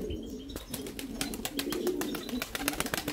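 Pigeons, including a female King, active outside their opened coops: several soft coos and chirps repeat over a steady low murmur, with bursts of wing or body movement scattered through, fairly close and moderately loud.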